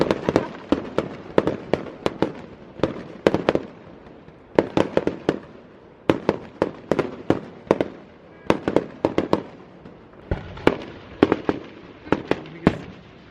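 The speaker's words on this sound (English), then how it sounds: "We have Fireworks have started." Fireworks at the Cape Vincent French Festival in New York: loud, sharp bangs and crackling bursts come in rapid clusters with brief lulls between them, repeating throughout, with no talking.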